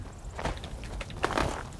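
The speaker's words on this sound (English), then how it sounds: "Footsteps echoing against stone." Echoing footsteps on stone in the video game Skyrim, a brisk run of several steps, soft and a little distant, heard alone without talk.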